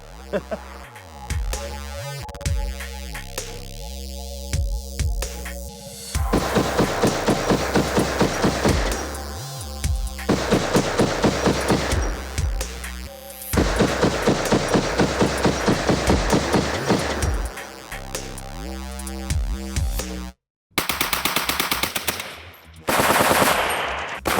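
A First World War machine gun of the Somme era fires in several loud, rapid bursts, each a dense rattling string of shots separated by pauses, with voices talking around the firing.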